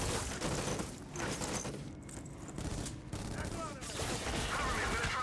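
MP5 submachine gun fire in the video game Black: dense, sustained automatic bursts at close range, with short gaps and scattered effects, continuing throughout.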